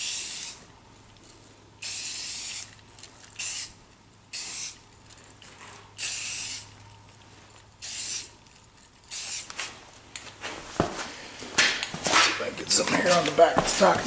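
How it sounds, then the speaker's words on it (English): Short bursts of earth-brown paint from a spray can hiss onto a gun in a test pass, a string of loud, evenly spaced sprays with pauses between, later turning busier and more broken. "I'm going to do a test spray, make sure it's spraying good."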